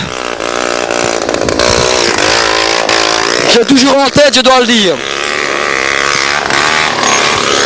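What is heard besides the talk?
Hercules motocross motorcycle racing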